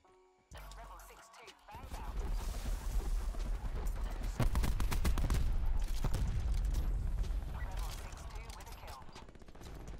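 Light machine gun fire in Call of Duty: Black Ops 4 multiplayer, rapid bursts of shots building to a loud sustained volley mid-clip, heard beneath a player's speech.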